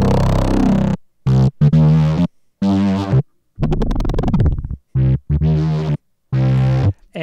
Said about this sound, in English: Today we're gonna take a super forward bright bass like this.